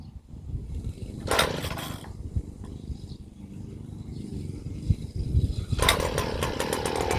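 A STIHL FS 56 RC gas string trimmer sputters to life after a pull, running loud with a harsh buzzing idle that surges briefly near the start and again toward the end.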